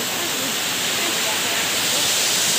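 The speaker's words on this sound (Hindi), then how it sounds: "आप लोग देख सकते हो इधर से झरना गिर रहा है बहुत भयानक बहुत जोर शोर" A powerful waterfall roars continuously nearby, a dense steady rush of falling water filling everything with no breaks.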